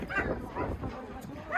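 Dogs bark and yip in short bursts at an outdoor poultry and dog market in Kyzylorda, Kazakhstan, with people talking over the barks nearby.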